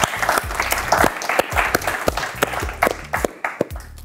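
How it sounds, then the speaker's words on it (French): A small group claps and applauds for a few seconds in a French game show setting, sharp uneven claps close by that thin out toward the end. "On peut l'applaudir encore une fois."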